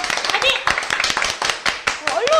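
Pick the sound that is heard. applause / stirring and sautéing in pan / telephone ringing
applause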